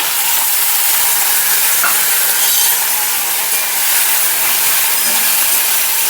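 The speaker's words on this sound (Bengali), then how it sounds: "হালকা করে নাড়িয়ে নিচ্ছি" Spices with salt and turmeric are lightly stirred in a hot pan for a village-style Malabar spinach dish. A loud, steady sizzle and hiss runs throughout, close up with no voices.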